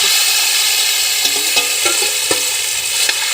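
Duck meat frying in a pan gives a loud, continuous sizzle with a few sharp crackles and spatters, heard close and alone without talk.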